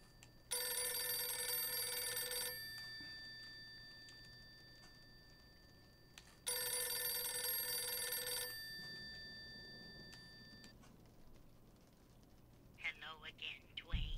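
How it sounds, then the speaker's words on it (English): A telephone rings inside a horror video game, two long bursts of bright electronic ringing several seconds apart in a quiet room, followed by a voice starting to speak at the end. "The phone's ringing, guys."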